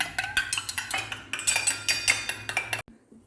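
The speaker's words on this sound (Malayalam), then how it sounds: "മുട്ടയുടെ മഞ്ഞക്കരു എടുത്തിട്ടുണ്ട് ഇതിലേക്ക് കുറച്ച് പാലൊഴിച്ച് നന്നായിട്ടൊന്ന് മിക്സ് ചെയ്യുന്നുണ്ട്" A spoon beats egg yolk and milk together in a bowl, clinking sharply against the sides in quick, close, steady strokes before stopping abruptly near the end.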